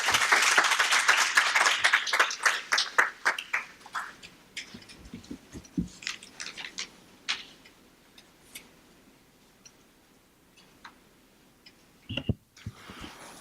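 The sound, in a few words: audience applause welcoming a speaker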